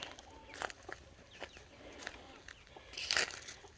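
Small flock of silkie chickens clucking softly in a backyard, several brief calls spread irregularly with one louder burst near the end, moderately distant and fairly quiet over outdoor ambience.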